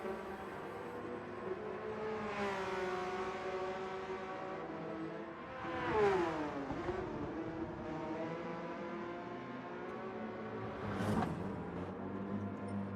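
A BMW race car in Gran Turismo 7 drones through steady engine tone, its pitch climbing and dropping sharply through gear shifts, with other cars whooshing past at moderate distance.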